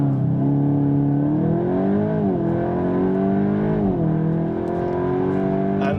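A Volkswagen Golf 8.5 GTI Clubsport accelerating hard from 0 to 60 mph, its engine loud and close, rising in pitch through the gears with brief dips at the shifts.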